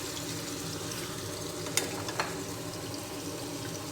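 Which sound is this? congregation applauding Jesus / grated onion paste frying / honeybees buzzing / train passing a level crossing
grated onion paste frying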